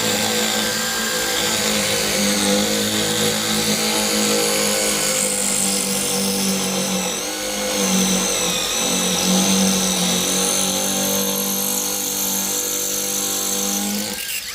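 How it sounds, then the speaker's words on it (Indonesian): A Kamolee Gen 2 impact driver with an 8 mm masonry bit drills into cast concrete, giving a loud, steady, close whine and grinding hammering that holds for the whole stretch without pause. "Kita coba ngebor ke cor-coran."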